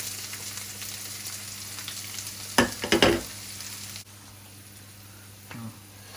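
Finely chopped onions and green chillies fry in a pan, a steady soft sizzle broken by a few louder stirring scrapes near the middle before settling back to a quieter hiss.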